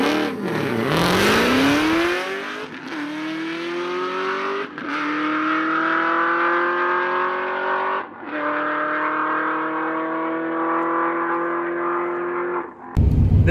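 A drag race car's engine winds out hard to around 6,800 rpm, its pitch climbing through each gear with short drops at the shifts, loud and close, ending abruptly with no talking.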